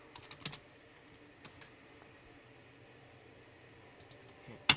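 Keys clatter on a computer keyboard as a search is typed into the SWTOR Galactic Trade Network market: short bursts of quiet, close clicks separated by pauses, with a louder keystroke at the end.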